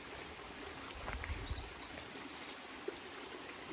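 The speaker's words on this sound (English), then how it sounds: "The whole way down is a creek." A creek beside a park trail in Toronto flows with a steady, soft broadband rush, even and continuous, with faint outdoor ticks and distant chirps over it.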